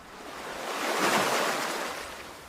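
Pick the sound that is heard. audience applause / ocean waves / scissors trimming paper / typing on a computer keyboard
ocean waves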